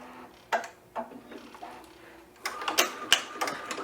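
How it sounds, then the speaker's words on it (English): An embroidery machine begins stitching an applique onto a hoodie, with a few spaced mechanical clicks followed by a faster, busier rhythmic run of needle ticks and motor whir, fairly close. "we're gonna go ahead and start the stitch out"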